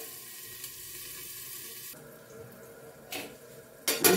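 Potato and cauliflower frying with salt in a covered pan, a soft continuous sizzle that shifts in tone partway through, then louder bursts of crackling near the end.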